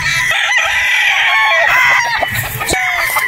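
A straight-comb gamefowl broodstag rooster crows loudly and close, with a few clucks and bird calls around it in a farm yard.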